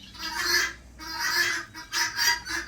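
Ordinary hens at a forest resort in Koyna cluck in a run of short, close bursts with brief pauses between calls, and no talk over them.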